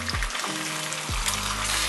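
Eggs fry in a pan with a bright, steady sizzle and crackle throughout, interrupted by a couple of low downward-sweeping tonal swoops, with no talking.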